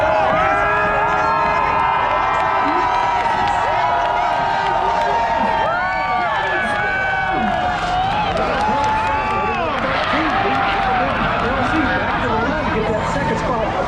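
A large race crowd at the 2021 Freedom 500 cheers and shouts loudly for the checkered flag, a dense continuous roar of many voices with whistles and yells, close and sustained throughout.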